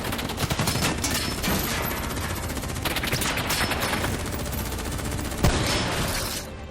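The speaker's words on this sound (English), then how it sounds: "Who's shooting?" Dense, sustained automatic gunfire and overlapping bursts in a Call of Duty: Black Ops 3 cutscene firefight, loud and continuous throughout, with one sharp louder crack near the end.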